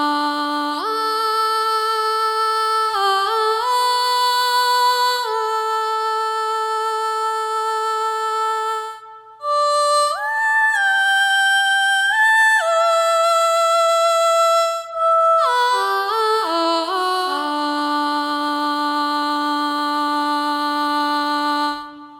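A Soundiron Voices of Wind Connie female vocal sample library plays legato, sweet sustained sung tones gliding smoothly between pitches, loud and continuous with one brief break.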